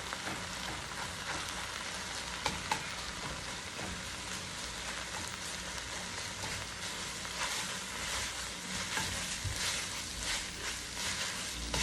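Cheesesteak meat and cheese slices fry in a pan while being mixed, a faint, steady rain-like sizzle with occasional light scraping clicks, no talking.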